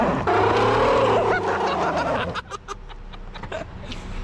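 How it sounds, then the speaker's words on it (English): A 1958 Chevrolet Apache pickup does an off-road burnout, its engine roaring loud and steady with rising pitch before cutting off abruptly, leaving scattered thumps and rattles behind. "Off-road burnouts, baby."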